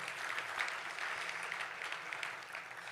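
Applause from a large convention crowd at an afternoon general session, a steady, fairly distant wash of many hands clapping for about three seconds.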